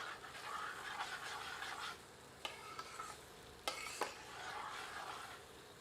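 A spoon stirs aloo palak curry in a pan, scraping and sliding in soft bursts with faint sizzling underneath and a few clicks of the utensil against the pan, fairly quiet and close.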